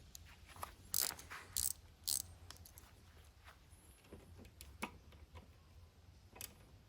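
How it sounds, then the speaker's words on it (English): A socket ratchet tightens a bolt on the auto choke of a Toro self-propelled lawn mower engine, with quiet, close clicking ratchet strokes in short bursts and a few sharper metallic taps. "take a 1/4 bolt and our socket and tighten that auto choke back down"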